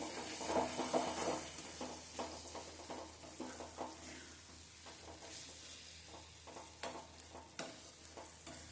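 Tomatoes sauté in oil in a pan, a soft, low sizzle with intermittent scraping and tapping of a spoon stirring, quiet and close with no voices.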